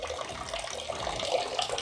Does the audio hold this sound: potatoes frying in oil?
no